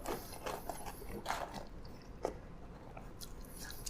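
Crisp crunching and chewing of MrBeast Burger fries, close to the mouth, with a few distinct bites standing out over a steady low background.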